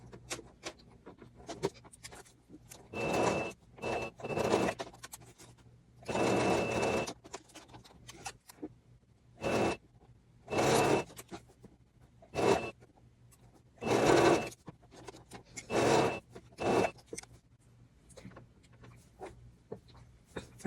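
A sewing machine stitches bias binding with a half-centimetre seam in short separate whirring bursts broken by quiet pauses, each run brief and close, with light handling noises between them.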